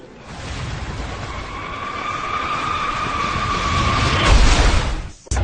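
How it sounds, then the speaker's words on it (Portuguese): Roaring, rising rumble with a harsh tearing screech building toward the end, then a sudden cutoff, as a passenger airliner breaks apart at high speed in the Adam Air 574 accident. "E esse é o som do avião se partindo."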